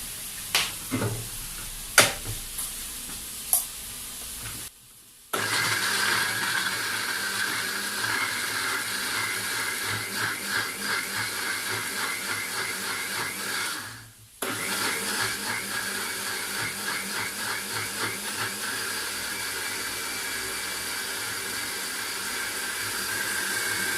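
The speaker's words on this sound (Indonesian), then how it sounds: "Oke, kita blender." An electric kitchen blender whirs steadily for a long stretch blending spices with coriander and water, briefly stopping twice, with a few clicks at the start; loud and close.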